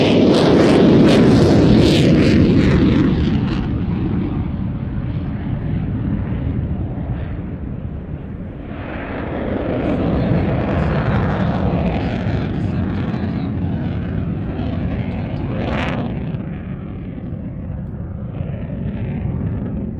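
A Eurofighter flying low and slow at an airshow, nose held high, gives a loud, broad jet roar that starts strong, eases, then surges again and fades over twenty seconds.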